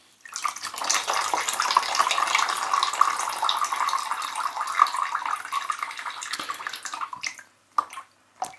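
Water streams and drips steadily off a soaked kitchen sponge lifted out of a container of water, a continuous close splashing trickle for about seven seconds that thins to a few last drips.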